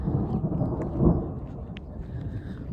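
Thunder from a storm rumbles low and heavy, swelling briefly about a second in and then rolling on as a steady deep roar with no voices.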